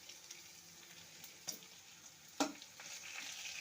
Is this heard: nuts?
yes